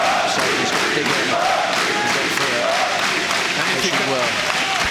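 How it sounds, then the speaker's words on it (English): A packed hall roars with cheering and shouting around a paratroopers' boxing bout, a loud, continuous wall of crowd noise with scattered clapping and voices. "literally the hall is rocking here with the crowd enjoying it"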